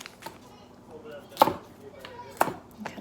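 A knife chops through fresh celery on a cutting board, with two sharp, close cuts about a second apart and a fainter third near the end, over quiet kitchen background.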